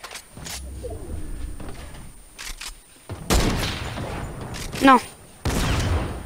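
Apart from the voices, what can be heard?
sniper rifle gunfire in a video game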